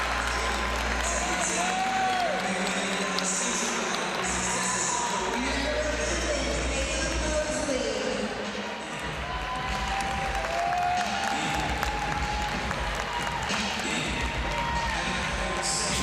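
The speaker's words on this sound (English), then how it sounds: "give Carson Bush and his family a round of applause" A crowd in a high school boys' basketball gym applauds a player and his family during a recognition, a long steady roar of clapping under an announcer's voice, with sneaker squeaks and scattered court noise.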